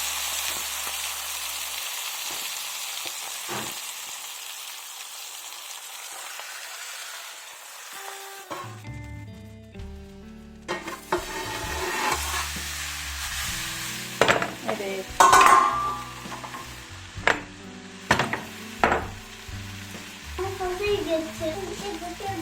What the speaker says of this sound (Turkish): Balığımızı arkalı önlü yaklaşık 5 arka 5 ön taraf olmak üzere kızarttık